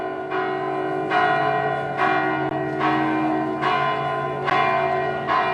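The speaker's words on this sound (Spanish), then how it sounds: "Están justamente ahora mismo las campanas sonando." Church bells peal on a Sunday in Cefalù, Sicily, likely from the cathedral, with loud, resonant strikes recurring roughly every second or so over a continuous sustained ringing hum, with no voices heard.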